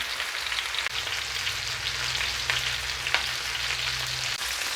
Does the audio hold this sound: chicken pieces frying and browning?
yes